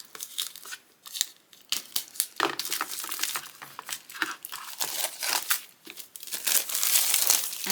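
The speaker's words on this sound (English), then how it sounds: "Got more plastic wrap. Let's get this off." Plastic wrap crinkles and tears as it is pulled off a craft advent calendar package, a steady run of close, dense crackling and ripping bursts for several seconds with no talking.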